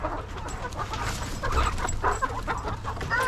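Brahma chickens on a cold-weather homestead cluck and murmur in a steady, busy cluster, close and moderately loud, with some background noise and no clear speech.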